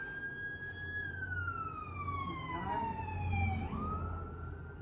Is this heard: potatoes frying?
no